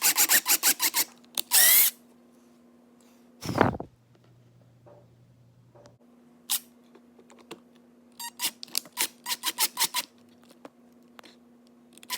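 A power drill bores a hole in a katana stand, with short whirring bursts and a longer winding run, clicks and rattles between them, loud and close, with no talk.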